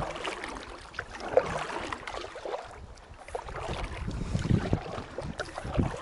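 A small boat is rowed by hand on open water after its motor ran out of fuel, oars splashing and creaking softly amid steady wind and lapping water, with no voices.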